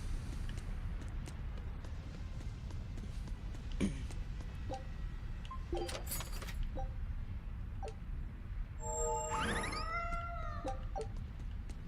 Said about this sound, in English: Yes, that was a cat in a box.